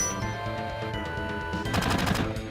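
Rapid bursts of automatic gunfire in Final Fantasy VII crackle loudly and continuously, with a sharper volley of shots near the end.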